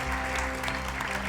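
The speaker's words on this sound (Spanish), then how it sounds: "¿Cuánto le damos un fuerte aplauso por esas personas?" A church congregation gives strong applause, a dense continuous roar of many hands clapping, close and loud throughout this brief moment.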